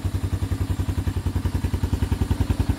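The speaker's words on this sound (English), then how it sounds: "Now this thing runs like a 350 should run." Yamaha Big Bear 350 ATV engine idling after a CDI and stator repair, a close, loud, steady single-cylinder thump that chugs in an even, rapid rhythm with mechanical clatter on top.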